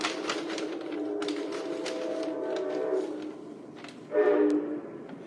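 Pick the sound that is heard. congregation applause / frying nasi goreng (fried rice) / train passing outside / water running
train passing outside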